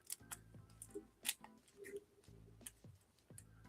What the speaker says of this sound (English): I need the scissors for the boxing cards.